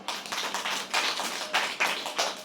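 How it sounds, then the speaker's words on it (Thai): Schoolchildren in a classroom clap for themselves in a lively burst, with several swells of dense hand-clapping spread across a couple of seconds and no talking. "อ่ะปรบมือตัวเองหน่อย"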